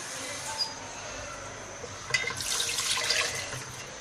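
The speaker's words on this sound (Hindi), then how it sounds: "दो गिलास हमने इसमें पानी डाला है।" Two glasses of water are poured into a pot of cooking meat, a splashing, gushing stream that starts midway and continues over a faint background hum.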